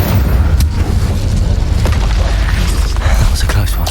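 Incendio fire spell cast in a Harry Potter-style video game, a dense, continuous roaring burst of fiery noise with crackles and pops throughout, loud and close.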